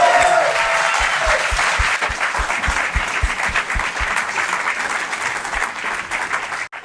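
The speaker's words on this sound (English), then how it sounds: "give her a big round of applause" Loud, dense applause from an audience at a startup talk, a continuous wash of clapping with some audible crowd voices mixed in, holding steady before dropping off sharply at the end.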